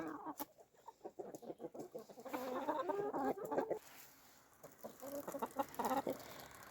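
Hens cluck in short repeated bursts, fairly close, outdoors in freezing weather, with a busier stretch of overlapping clucks and squawks in the middle.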